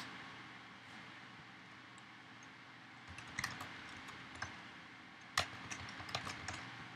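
Faint keystrokes on a computer keyboard as a command is typed, scattered soft clicks starting midway and coming in short irregular bursts over a quiet room hum.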